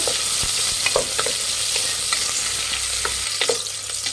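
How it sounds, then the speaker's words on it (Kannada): Two sliced onions frying in hot oil for veg biryani, a loud continuous sizzle close up with soft stirring scrapes and light utensil taps throughout, no voices. "2 ಈರುಳ್ಳಿ ಹಾಕ್ಕೊತಾ ಇದ್ದೀನಿ. ಫ್ರೈ ಮಾಡಿ ಈರುಳ್ಳಿನ."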